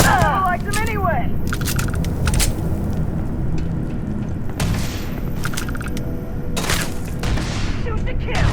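Gunfire in the space RPG Starfield: cracks and booms over a steady battle din, with bursts around the first seconds and again near the middle and end, while voices talk in the background.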